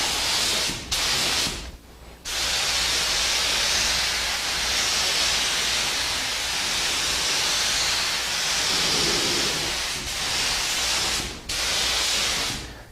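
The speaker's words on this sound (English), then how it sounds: "you're putting white on white, but it really sprays nice." A paint sprayer lays white paint onto old pine furniture as a steady, loud hiss that runs almost without a break, stopping briefly two or three times between passes.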